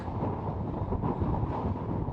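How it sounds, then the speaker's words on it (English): Strong West Texas wind gusts buffeting the microphone on a plowed farm field, a dense rumbling roar that swells and eases without pause. "Woo, it's windy."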